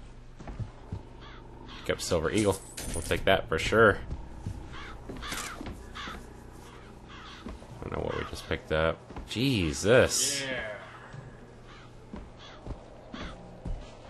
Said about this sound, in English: They just let ravens just straight up overrun them here.